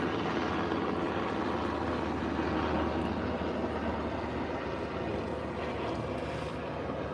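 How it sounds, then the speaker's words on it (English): A helicopter passes overhead, its steady broadband rotor and engine drone holding loud and constant throughout without any talk. "Oh, there's a helicopter."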